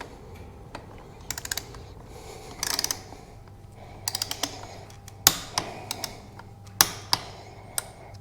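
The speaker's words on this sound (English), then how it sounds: "we're going to torque the drain plug to 20 Newton meters." A torque wrench tightens the final drive drain plug on a BMW R1250GS motorcycle, with clusters of crisp metallic ratcheting clicks at close range, then a few sharper isolated clicks against a quiet workshop background.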